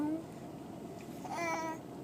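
A small child in a shopping mall imitates a cat's meow, a brief rising and falling voiced cry near the end, over a constant murmur of crowd babble.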